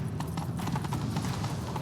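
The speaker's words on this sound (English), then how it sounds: "How is he riding a horse through here?" Horse hooves clip-clopping at a steady gallop in The Witcher 3 video game, a continuous rhythmic drumming of hoofbeats close by with no talk over it.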